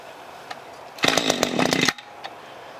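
Small gasoline engine starting on a single pull, a brief rasp from the cord followed by a loud, sputtering burst of rapid firing that runs for about a second and then cuts off abruptly, leaving quiet.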